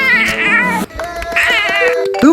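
A voice imitates a cat meowing in a comedy act, with two drawn-out wavering meows and a short rising mew at the end, loud and close with no other sound.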